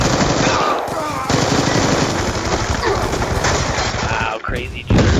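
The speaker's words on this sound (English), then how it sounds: "Wow, crazy jitters with the LMG." A light machine gun fires in the Black Ops II video game, with loud, rapid sustained bursts that dominate the clip and briefly drop out near the end.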